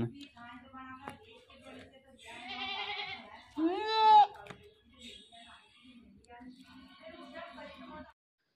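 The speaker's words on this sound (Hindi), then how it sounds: "बकरी नीचे लेटकर चिल्ला रही है" A goat with enterotoxemia lies down and cries out in loud, drawn-out bleats, the strongest one near the middle, with quieter background sounds and a person talking around them.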